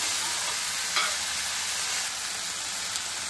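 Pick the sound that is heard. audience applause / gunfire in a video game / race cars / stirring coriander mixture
stirring coriander mixture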